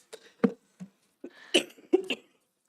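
Several short, harsh coughs in irregular bursts, close to the listener, with brief pauses between them and no speech.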